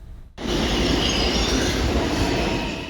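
New York subway train on its track, rising abruptly into a loud, continuous close roar of wheels with a high metallic squeal over the rumble.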